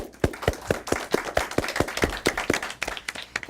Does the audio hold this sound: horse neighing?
no